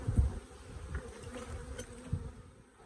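Honeybees buzz softly and steadily at close range as they crawl back into the hive, a low continuous insect hum with faint irregular flutters and no voices.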